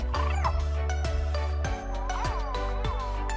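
A Little Live Pets Lil' Chameleon toy gives out repeated electronic chirps and warbles over a loud steady hum, with the clicks and chirps coming in an irregular series near at hand.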